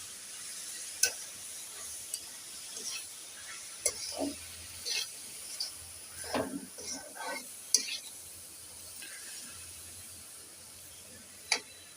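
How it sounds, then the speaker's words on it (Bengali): Pangas fish eggs are stirred in a pan with quiet intermittent scrapes and light taps from the utensil over a faint sizzle, alone and close. "এখন এটাকে নেড়ে দিতে হবে একটু।"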